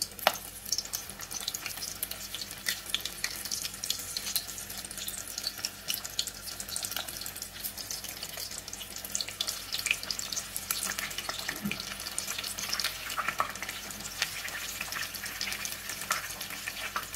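Egg-dipped patties sizzle in hot oil, a dense, continuous crackle and spatter that stays loud and steady throughout, with occasional sharper pops and no talking.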